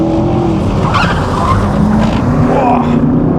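A loud, roaring 6.2-litre naturally aspirated V8 Corvette on a race track, with tire skids and squeals, steady and close, under a continuous wash of road noise.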